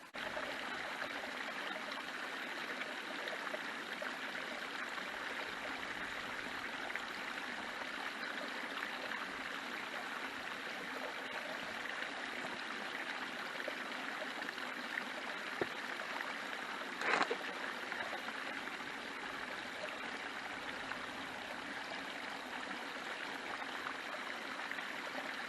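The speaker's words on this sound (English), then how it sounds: "the path crosses this stream" A small stream on a moorland hiking path runs steadily at low volume, a soft continuous trickle and rush of water with a brief louder splash partway through.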